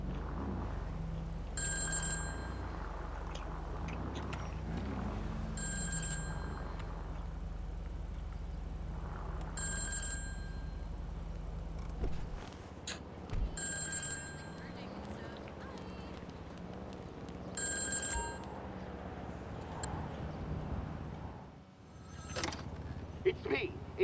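A phone rings in the video game GTA 5, with bright repeated rings coming about every four seconds over a low game backdrop and some voices.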